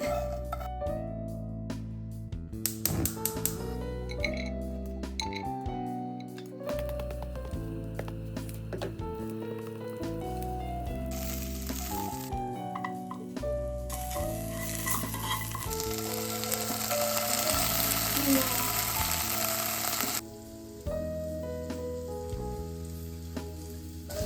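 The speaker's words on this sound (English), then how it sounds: "We're going to be cooking the breadcrumbs for about 2 to 3 minutes until they're all toasted" Breadcrumbs toast and sizzle in a pan while being stirred, a soft continuous frying hiss that runs underneath louder background music.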